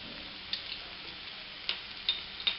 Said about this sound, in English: So our mixture is sauteed for some time